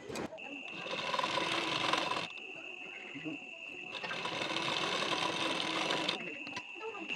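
A sewing machine stitching a patti onto a blouse runs in two long, steady bursts with a short pause between, close and clear, with a thin high whine riding on top.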